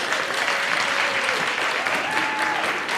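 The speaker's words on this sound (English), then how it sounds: "let's give them another round of applause." An audience gives a round of applause at a youth spoken-word event: dense, even clapping from many hands, sustained and fairly loud throughout, with no voices over it.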